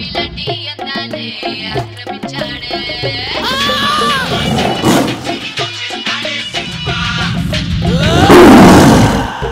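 A tiger roars in a film scene, a series of loud, close growling roars rising and falling over about nine seconds, with other dramatic sound layered in and growing heavier toward the end.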